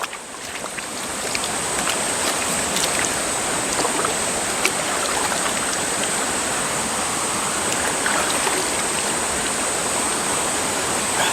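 Steady rushing of flowing water, loud and continuous throughout, like a forest stream tumbling over rocks, with no voices.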